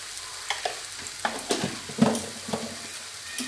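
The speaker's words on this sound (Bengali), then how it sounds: "এবার এই মশলাগুলো দিয়ে ভালো করে একটু কষিয়ে নেব" Spices sizzle and fry in a pan for a yam and prawn curry, with a spoon scraping and stirring in several distinct strokes over a steady close hiss.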